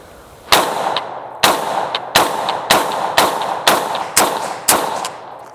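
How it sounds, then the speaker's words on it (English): Rapid magazine dump of gunfire at an outdoor shooting range: about seven loud, close shots in a steady rhythm, each with a short ringing echo. "going to go ahead and do a mag dump for me"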